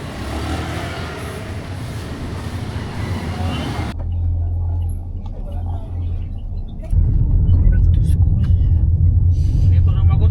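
A car drives along West Inner Service Road, a steady low engine and road rumble filling the cabin, loudest in the final seconds as the noise steps up; a person talks over it.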